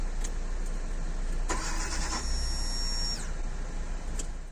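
A generator or engine being started on its fuel supply, cranking and catching around the middle, then running with a steady broadband rumble and a high whine over a constant low hum at home.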